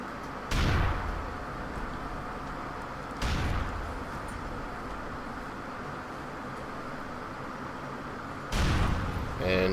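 Three heavy grenade blasts in GTA IV land a few seconds apart, each a loud broadband boom over a steady roar of game noise and distant traffic-like rumble.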